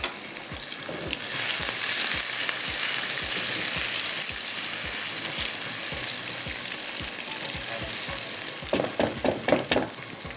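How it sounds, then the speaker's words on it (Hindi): Onions lightly frying in a karahi give off a loud, steady sizzle, with regular scraping knocks of a stirring spoon and a burst of quicker clatter near the end. "हल्का सा इसको फ्राई करेंगे"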